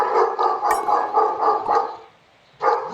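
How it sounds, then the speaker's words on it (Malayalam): A dog beside a house barks in a quick run of sharp, fairly close barks, pauses briefly, then barks once more. "എൻ്റെ വീടിൻ്റെ സൈഡിൽ നായ ഉണ്ട്,"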